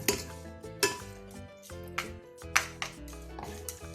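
Thai seafood salad being tossed in a bowl: a utensil clinks and scrapes against the dish in irregular knocks, close and fairly crisp, with short pauses between strokes and no talking.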